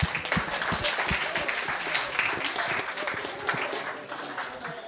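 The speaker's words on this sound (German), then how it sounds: "Klatsch mal für dich selber und für deinen Nachbarn" Congregation at a church service clapping together in a steady, dense burst of applause that fills the room, fairly loud and close throughout.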